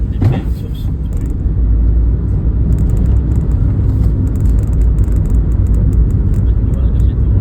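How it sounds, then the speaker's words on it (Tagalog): A manual car drives steadily with a low, continuous engine and road rumble heard from inside the cabin, and voices come and go over the drone. "Manual kasi itong sasakyan."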